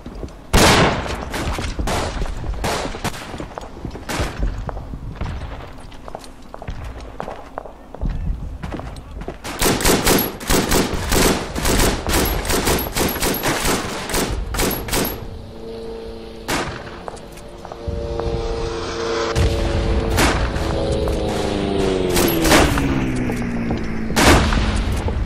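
Gunfire in the World War I shooter game Verdun: dense, continuous volleys of rifle shots mixed with heavy booms, loud and close, with tonal sounds wavering in the later part.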